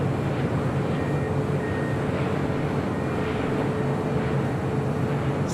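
An American Airlines jet arriving at LAX from Tokyo Haneda, a steady broadband engine roar and rumble heard from a distance, constant in level throughout with no voices.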